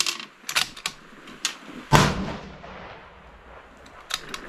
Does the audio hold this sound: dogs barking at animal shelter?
no